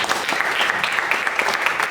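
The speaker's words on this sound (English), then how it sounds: "Big round of applause." An audience applauds at a public contemporary art event in Kumasi, a steady round of clapping held at a moderate level throughout with no talk above it.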